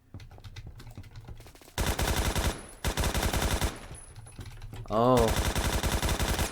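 Automatic AK-12 rifle fire in the video game Phantom Forces, heard as loud, close sustained bursts of rapid shots in three runs, with a brief spoken exclamation between them.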